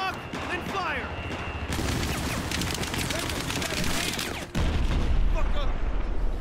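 A Stinger missile launched at a helicopter in Battlefield 4 roars out in a loud whooshing blast near the end, following dense gunfire and battle noise with voices talking over it.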